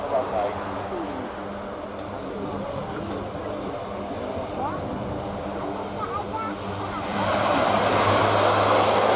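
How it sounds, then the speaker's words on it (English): Lockheed Hercules transport at an air day, its four engines roaring into reverse thrust after a short landing; a steady loud propeller drone swells louder near the end, with a commentator talking over it. "And going into reverse on the four A2100 engines."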